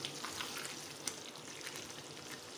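Onion and tomato masala fries in oil for aloo gosht, giving a faint, continuous crackling sizzle with a few sharper pops and no talk.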